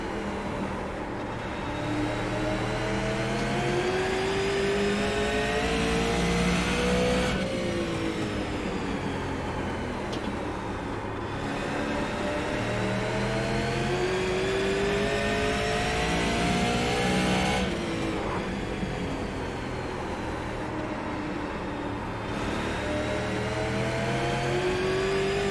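A Super Late Model race car engine roars continuously in iRacing, loud and close, with its pitch rising as it accelerates and dropping at a few throttle lifts, steady across laps.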